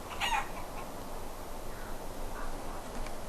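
A chicken in the video game Lord of the Rings Online gives a brief faint cluck near the start over a soft, steady ambient background.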